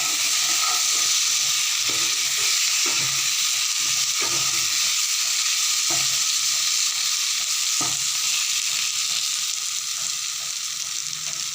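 Tangra fish fry in a pan with a constant loud hissing sizzle, and a spatula scrapes or taps every couple of seconds. Close and unbroken, with no one speaking.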